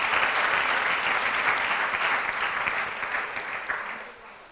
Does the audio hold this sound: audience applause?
yes